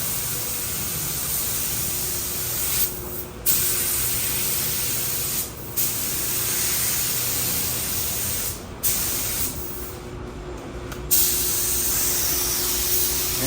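A spray gun lays apple red base coat on a Camaro in a paint booth, a steady loud hiss running in long passes broken by a few brief pauses as the trigger is released.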